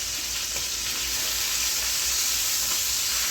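Chicken for adobo sizzles steadily in a pan, a continuous close frying hiss with faint crackles and no voices.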